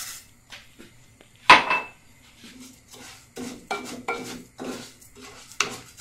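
Bulgur tipped into a frying pan with sunflower oil while cooking Turkish bulgur pilaf, heard as scattered clinks and scrapes of utensils against the pan, one sharp loud clatter early, then lighter intermittent knocks and stirring, with no voices.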